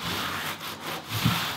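A regular grout float rubs and presses Schluter-DITRA membrane down onto a bathroom floor over wood, a close, continuous scraping that swells and eases in strokes, with no talk.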